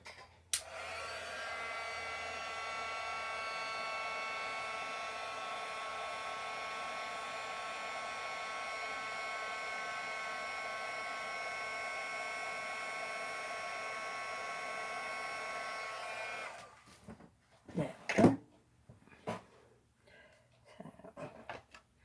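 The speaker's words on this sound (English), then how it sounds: "I'm going to have to take a minute and be a little loud and use my heat gun" A heat gun blows steadily with a loud, even whooshing hum for about sixteen seconds, then cuts off, followed by a few clattering handling noises.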